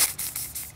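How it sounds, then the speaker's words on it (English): Short bursts of carburetor cleaner hiss from an aerosol can onto a spark plug from a 3.5 HP Tecumseh small engine, three or four quick close sprays in a row. "we're just going to spray a little carburetor cleaner on it"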